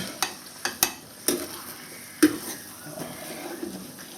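Mince is mashed with a masher in a hot sizzling pan, giving repeated sharp metallic taps and scrapes at an uneven rhythm over a soft continuous frying hiss, close and fairly quiet.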